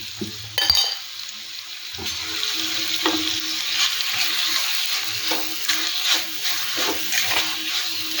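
A spice paste of turmeric, coriander and chili powder soaked in water sizzles in hot oil for a Kerala catfish curry, with a steady crackling fry and repeated stirring scrapes close by.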